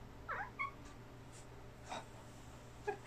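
A domestic cat lets out a few short, faint howling yowls, spaced apart over a quiet indoor background with soft breathing-like noise between them.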